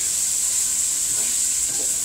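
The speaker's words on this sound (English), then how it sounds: "Have the okra really sauteed." Okra sautéing in hot coconut oil gives a steady, close hiss of sizzling with a couple of soft stirring scrapes near the end, no voices.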